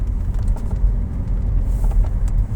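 Car cabin while driving: a steady low engine and road rumble, close and continuous, with faint higher rattles and no talk.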